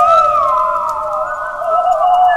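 An eerie, wavering whistle from a horror story about El Silbón, the whistling ghost of Venezuela, slides up and down in a long, loud, sustained tone with no voices over it.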